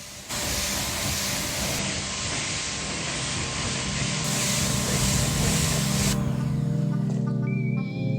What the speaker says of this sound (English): rinsed with a pressure washer